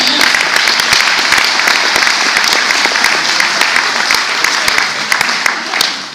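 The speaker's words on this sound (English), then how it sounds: "Big round of applause for this man." Loud, dense audience applause fills a hall at a live political event in Bradford, steady clapping from a large crowd that tapers slightly at the end.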